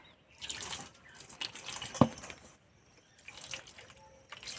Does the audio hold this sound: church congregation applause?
no